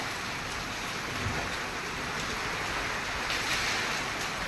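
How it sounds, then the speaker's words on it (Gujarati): Continuous heavy rain with hail pours down on a village, a dense steady hiss with no pauses and no voices. "વરસાદ"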